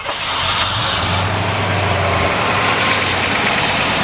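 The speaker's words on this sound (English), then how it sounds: "We'll go ahead and fire it up for you." A 1950 Chevrolet Styleline Deluxe V8 engine turns over and catches, then settles into a loud, steady, rumbling idle close by.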